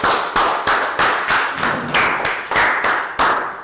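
Students give a round of applause in a Year 3 maths class: about ten loud, evenly spaced claps in a steady unison rhythm, close and clear with no talking.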